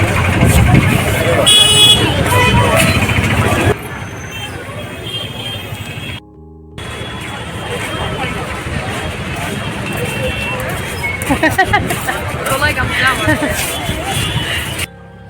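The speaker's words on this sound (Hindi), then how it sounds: "Traffic jam." Evening traffic jam on busy streets in Puri, India, with constant engine rumble, scattered car and motorbike horns and crowd babble, loud and close, with someone talking over it and a brief gap partway through.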